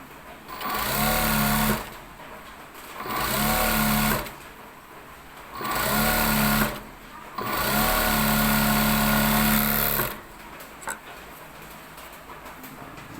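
A four-needle sewing machine under repair runs in four separate bursts of rapid mechanical whirring, each lasting one to four seconds, with short quiet pauses between them.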